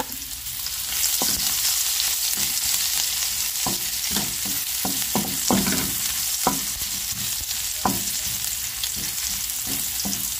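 Ginger sautés in a small amount of oil in a pan that held fried fish: a constant bright sizzle, broken by repeated scraping and stirring strokes.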